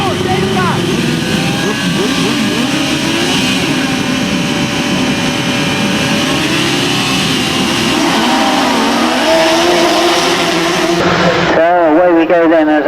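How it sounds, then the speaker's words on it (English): Grasstrack sidecar racing engines howl continuously as the outfits race, a loud dense roar of several machines with shifting revs, while a commentator talks over the noise. "Terrific sidecar racing."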